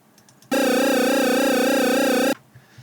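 A single sustained buzzy 8-bit square-wave tone from the Magical 8bit Plug plays loud and alone for about two seconds, wobbling with steady vibrato combined with auto-bend, then cuts off abruptly.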